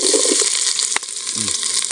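Onions frying in hot oil in a pan for chicken fry, a loud, close, steady hiss and crackle with a few scraping stirs.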